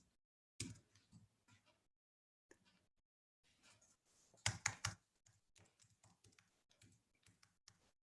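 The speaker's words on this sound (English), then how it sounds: "I'll just type that in for you" Bursts of keyboard typing enter a web address on a computer, clicking keystrokes in short clusters separated by brief silences, with a heavier flurry of keys partway through; close and fairly quiet.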